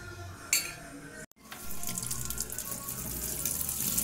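Water runs steadily from a kitchen tap as partly cooked macaroni is drained in a strainer, a continuous splashing flow that starts after a brief pause and a short clatter near the start.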